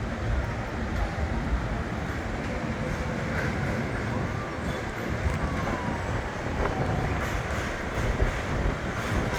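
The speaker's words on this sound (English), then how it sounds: "here comes the final train that I'm gonna be recording for the video" An F train on the New York subway pulls into the elevated West 8th Street station near the Aquarium. A broad, steady rumble and rolling roar fill the platform at close range, with faint squeals and no voices.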